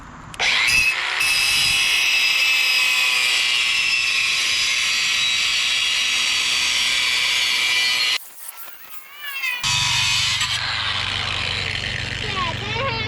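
A power tool cuts off the belt guides on a Cub Cadet 1170 lawn tractor, a loud high whining grind for several seconds, a brief pause, then a second cut with an engine rumble underneath.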